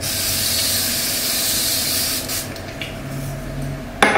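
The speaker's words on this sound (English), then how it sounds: "I'm gonna use some Evian spray" A steady broadband hiss of an Evian facial mist spray lasting about two seconds, then quieter rustling and a sharp click at the end.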